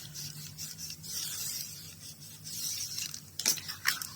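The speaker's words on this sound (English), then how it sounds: "go ahead and burnish that down to see if I'm going to need to re-glue that all on there" Paper being burnished down onto a journal board, making a soft, close rubbing rasp in slow strokes, with a few sharper scrapes near the end.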